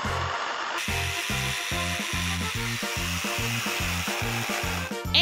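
Cutting material for a small play house built as a secret castle, a quick regular back-and-forth rasping like sawing, about a dozen even strokes, close and loud with no voices.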